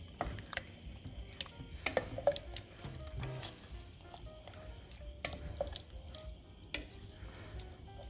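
A spoon stirs roux into chicken, shrimp and sausage gumbo in a pot, producing soft, close scraping and gentle bubbling with scattered light clicks and drips at a low level.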